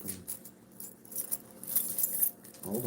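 Keys jangle and rattle in short, bright clusters close by, scattered over a few seconds with no talking.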